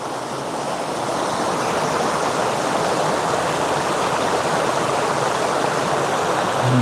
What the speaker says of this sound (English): And look up the river there.